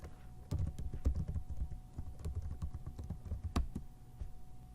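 Fingers typing a date on a computer keyboard, a quick irregular run of soft clacking keystrokes close by, fairly quiet with no voices.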